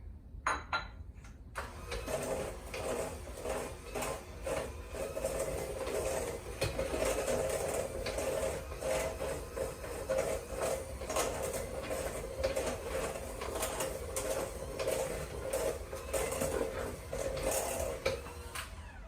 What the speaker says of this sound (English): after you've blended that together for about 30 seconds to a minute, you're going to have your dough